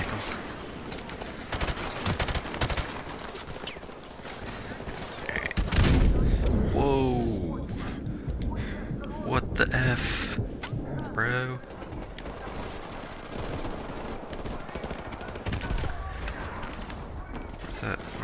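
Gunfire in Call of Duty: Modern Warfare, scattered shots and bursts against Russian enemies over a busy in-game mix, with people talking over much of it.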